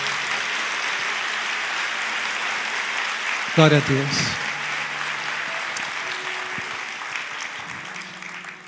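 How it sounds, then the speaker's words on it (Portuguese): A church congregation applauds in a steady, dense wash of clapping that fills the room, while a voice briefly calls out partway through before the applause continues and slowly thins. "Vocês podem aplaudir ao Senhor por essas vidas."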